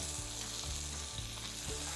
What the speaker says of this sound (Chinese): 听好这个酱汁先不要下，先煎排骨